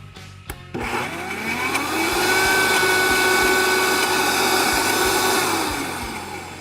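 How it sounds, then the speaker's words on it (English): A blender whirs through almond milk dairy-free ice cream mix, starting with a brief clatter, then climbing into a loud, steady motor drone that holds for several seconds before easing slightly. "Can we just take a moment for my blender, please?"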